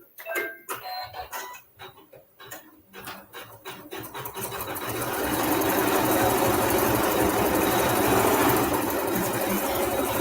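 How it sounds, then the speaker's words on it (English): An embroidery machine stitching a lavender design opens with a few separate mechanical thumps, then settles into a loud, continuous rapid hum and rattle that holds steady at close range. "And now it's going to be stitching, of course, the lavender that is in this design."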